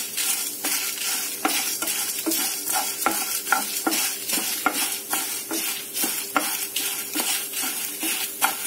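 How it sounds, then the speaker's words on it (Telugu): Coriander and cumin seeds dry roasting in a pan for kootu masala powder give a steady close crackling sizzle, broken by regular scraping strokes of stirring throughout. "ఇది దోరగా వేగినాయండి ధనియాలు కొంచెం ఒక్క నిమిషం వేగిన తర్వాత స్టవ్ ఆఫ్ చేసేసి చల్లారనిద్దామండి"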